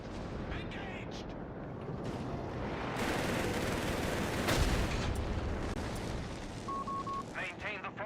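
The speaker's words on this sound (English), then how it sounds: "It's only some Indian artillery" Artillery fire in the game Company of Heroes rumbles and booms throughout, with a heavier blast midway over continuous battle noise, while a voice talks over it.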